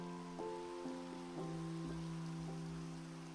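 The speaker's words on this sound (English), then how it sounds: "Just until this rain stops." Steady rain in Minecraft falls as an even hiss, with a low hum and faint music-like tones underneath and no one speaking.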